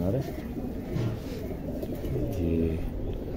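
Golden highflyer pigeons coo in low, repeated throaty phrases close by, with people talking over and between the calls.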